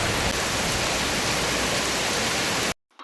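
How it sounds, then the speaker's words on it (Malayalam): Heavy rain pours outside, a loud, even roar of water that continues without pause before cutting off abruptly near the end, leaving brief quiet. "അപ്പൊ നമ്മുടെ പുറത്ത് നല്ല അടിപൊളി മഴയാണ് കേട്ടോ."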